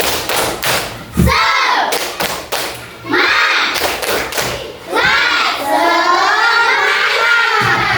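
Children in a classroom clap together in a rhythmic spirit routine led by a teacher, with repeated loud hand claps and thuds mixed with chanted voices.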